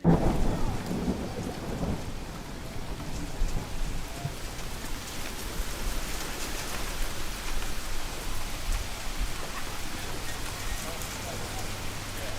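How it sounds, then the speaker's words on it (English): Heavy rain pours steadily in an English village, a dense hiss of drops on surfaces with low rumbling thunder rolling underneath throughout, no talk heard. "it just keeps pouring with rain"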